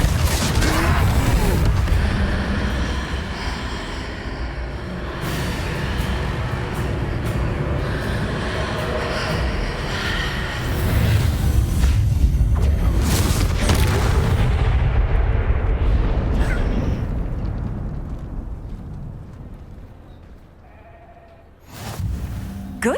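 Loud, booming blasts from the Confringo spell in Hogwarts Legacy, fired during a troll fight, with heavy rumbling explosions and battle noise that fade near the end before a final swell.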